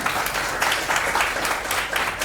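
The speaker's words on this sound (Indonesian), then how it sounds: "Tepuk tangan untuk semua" An event audience breaks into applause, a dense, fairly close patter of many hands clapping evenly through the short stretch, with no voices over it.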